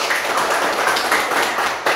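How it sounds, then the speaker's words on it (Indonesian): A classroom group gives steady applause for a presenting team of students, a dense continuous patter of many hands clapping at close range that stops abruptly near the end. "beri tepuk tangan buat kelompok daun"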